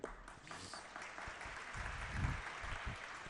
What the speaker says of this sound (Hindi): आप लोगों में ताली बजाने की आदत तो पूर्ण पड़ चुकी है